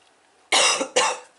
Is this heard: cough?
yes